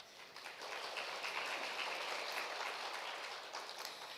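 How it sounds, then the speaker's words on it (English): A conference audience at an international gathering on women and peace applauds, a faint, steady, dense patter of many hands that holds evenly for several seconds without voices. "please welcome them with a big applause"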